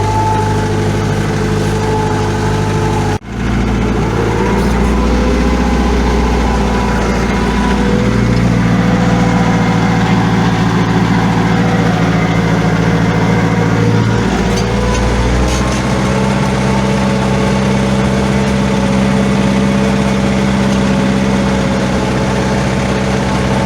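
A loud, close homemade tractor engine idles steadily with a deep rumbling drone, briefly cutting out near the start, then chugging on with slight shifts in pitch.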